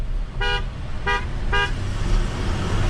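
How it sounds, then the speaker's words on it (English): Three short car horn honks, evenly spaced about half a second apart, over a steady low engine rumble. "Honk it, honk it."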